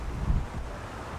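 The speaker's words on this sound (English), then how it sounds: "Really well ventilated, windy area." Low rumbling wind buffets the microphone in gusts, a brief blustery roar with soft rustling behind it.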